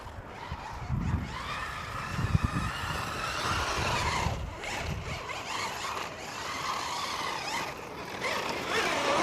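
A Losi Super Baja Rey 6S RC car drives nearby, its electric motor whining steadily with a rough, gritty rumble of tyres on terrain, fairly loud throughout.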